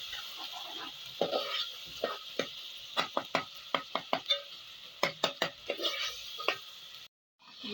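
A spoon scrapes and clacks in a pan as tomatoes are stirred into golden fried onions for a mutton kaleji masala, with a soft sizzle under a dozen or so sharp, irregular knocks, then a brief silence.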